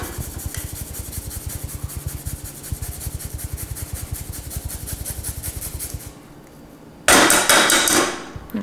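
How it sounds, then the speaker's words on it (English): A whole garlic clove is grated into a chili sauce mixture. It makes a fast, rhythmic rasping scrape, close and steady for about six seconds, then stops and gives way to a louder clatter near the end. "I'm gonna grate a whole clove of garlic into this as well."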